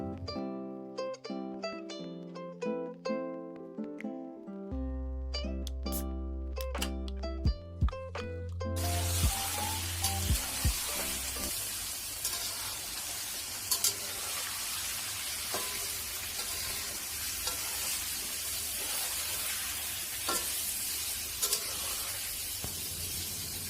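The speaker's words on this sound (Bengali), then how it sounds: "ধুয়ে রাখা মাংসটা এবার এতে দিয়ে দিচ্ছি" Washed mutton pieces dropped into browned onions in a hot pan for mutton kosha, setting off a loud, steady sizzle that fills the second half after a stretch of louder melodic sound, alone with no talk.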